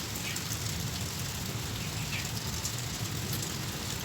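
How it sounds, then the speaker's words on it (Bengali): Steady rain hisses continuously at moderate volume, an even wash of noise with no voices. "এখনই বৃষ্টি হচ্ছে"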